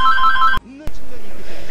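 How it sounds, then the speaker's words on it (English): A mobile phone rings loudly with a bright, repeating electronic ringtone that cuts off abruptly, followed after a short gap by a sharp click and quieter background sound with faint voice-like tones. "That is my phone."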